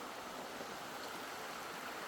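Steady broadband rush of a river stream flowing over rocks in a Hyrcanian forest riverbed, continuous and even with no voices.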